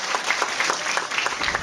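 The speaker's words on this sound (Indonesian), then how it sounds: "mari kita beri aplaus dan tepuk tangan yang meriah" A crowd at a Halal bi Halal gathering for the Indonesian social affairs minister at a foundation hall in Bangil, Pasuruan, gives dense, loud, sustained applause throughout the short stretch.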